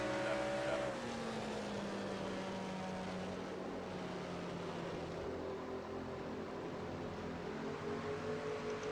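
NASCAR race car engines at Richmond in the game NASCAR Racing 2003, a steady droning roar with slowly sliding pitch as cars run close together, moderately loud and continuous.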